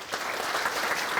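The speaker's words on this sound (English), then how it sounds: "round of applause, please, for Kate Tomasella." An audience claps in a steady, dense round of applause, a continuous wash of hands that holds at even loudness through the short burst without any voices over it.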